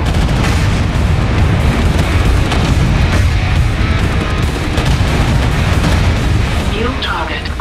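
Missile explosions in MechWarrior 5 hit as dense, loud booms and blasts that crowd one another without a break, with speech-like game chatter mixed in.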